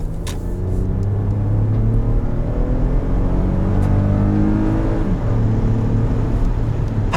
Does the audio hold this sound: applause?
no